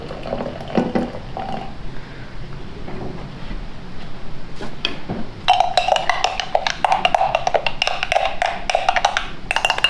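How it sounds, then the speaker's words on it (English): Boiling water being poured into a detergent mixture, a steady close liquid pour and splash that grows louder and more bubbly in the second half with a rapid, crackling texture. "then I'll take some boiling water and add a little bit of boiling water into this mixture"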